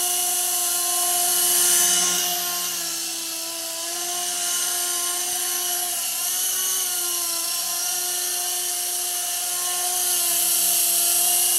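Small remote-controlled nano helicopter in fast forward flight, a steady high-pitched whine with a constant buzzing motor tone that swells and eases slightly, close and fairly loud throughout.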